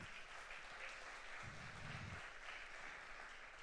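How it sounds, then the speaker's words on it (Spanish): Church congregation applauding, a dense, steady wash of clapping that fills the whole stretch evenly, sounding like a large crowd in a reverberant hall. "Dale un fuerte aplauso a Dios ahí."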